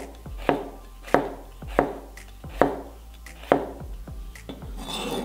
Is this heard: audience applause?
no